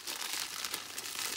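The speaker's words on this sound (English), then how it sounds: "So we get the scissors, give that bag a little chop." A plastic bag around a Plastic Man Funko Soda figure crinkles and rustles briefly and close up as it is cut open with scissors.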